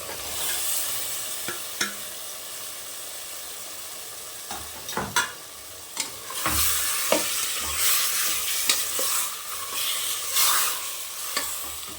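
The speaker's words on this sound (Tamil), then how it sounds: "மட்டன் குழம்பு, நம்ம எடுத்து வச்சுருக்க மட்டனை சேர்த்துக்கலாம்." Mutton pieces sizzle and fry in a hot pan for a mutton varuval, with repeated stirring clatters and scrapes of a spoon against the pan over a steady frying hiss, close and moderately loud with no talking.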